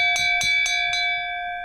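A bell inside a reputedly haunted dollhouse rings four times in a quick, even rhythm, each strike bright and metallic, then the tone rings on and slowly fades with no further hits.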